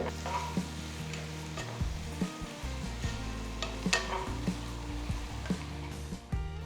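Vegetables cooking in butter with salt and turmeric are stirred in a pan, a steady close sizzle punctuated by repeated scraping and knocking of a spoon against the pan.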